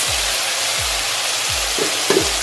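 Carrots, beans, green peas and potatoes for vegetable biryani hit a hot pan and fry in a loud, dense, continuous sizzle, with soft low thumps recurring underneath.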